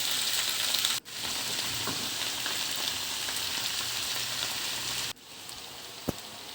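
Onion and seafood sauté in a hot pan, a loud continuous sizzle broken twice by brief drops in level and one sharp tap near the end, with no talking.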